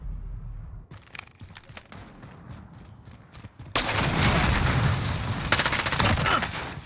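A grenade thrown in Call of Duty Modern Warfare, among scattered gunshots that give way to a sudden loud, sustained rush of blast and firing noise that lasts to the end.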